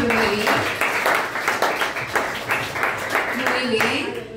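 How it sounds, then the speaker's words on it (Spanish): Church congregation applauding, steady moderate clapping from a crowd lasting a few seconds, with talk mixed in. "Vamos a darle un fuerte aplauso también a Rumelín."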